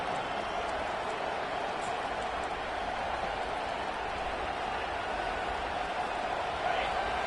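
A roaring crowd at a Jacksonville football stadium fills the air during a Washington timeout, a dense sustained wall of cheering heard from a distance.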